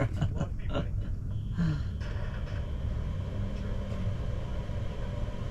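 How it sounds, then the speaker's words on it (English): Low, steady rumbling of strong wind buffeting a vehicle parked overnight in a Walmart parking lot around 10 o'clock, a constant roar with gusts and a few faint knocks at the start. "It is real windy."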